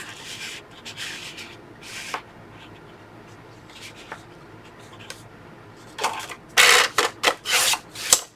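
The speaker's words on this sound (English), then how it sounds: "So grab my trimmer. And we're going to cut this down." A paper trimmer slices through craft paper for a photo organizer, with quiet rustling and small taps early on, then a cluster of sharp, close scraping cuts near the end.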